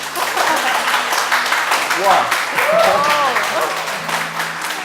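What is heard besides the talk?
applause from studio audience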